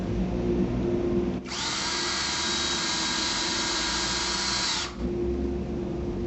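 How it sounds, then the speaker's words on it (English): A power drill pre-drills a screw hole at an angle through a shutter bypass track frame into the wall stud, a loud steady whine running about three and a half seconds over a constant background hum. "We'll start by pre-drilling a hole for the screw, making sure that we angle back through the frame into the wall and into the stud."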